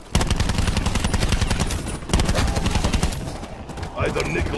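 Rapid automatic weapon fire in Black Ops 4 Zombies, Blood of the Dead map, a sustained loud stream of shots with a brief pause near the middle, then scattered shots and game sounds.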